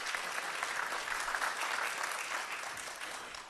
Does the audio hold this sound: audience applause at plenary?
yes